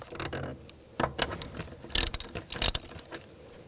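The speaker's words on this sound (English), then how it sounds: "Use a 13mm socket. Loosen that up." A ratchet with a 13mm socket loosens a nut on the brake master cylinder of a 2011-2018 Volkswagen Jetta, giving close, quick metallic clicking in short irregular bursts with a few louder clatters.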